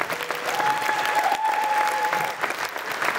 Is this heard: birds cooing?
no